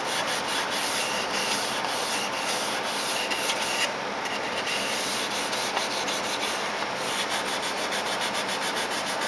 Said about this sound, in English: I'm going to sand the sides of this rib pretty clean